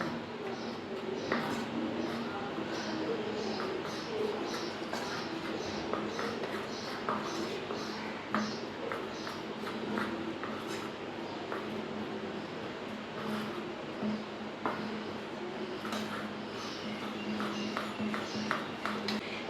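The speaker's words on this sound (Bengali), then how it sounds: "এবার আমি এর মধ্যে একটা ডিম ফাটিয়ে দিয়ে দেব এবার আমি ভালো করে মিশিয়ে নেবো" A spoon or whisk works an egg into a flour, cornflour, salt and pepper batter, giving repeated soft clicks and taps against the bowl in an uneven rhythm, close by, under occasional talk.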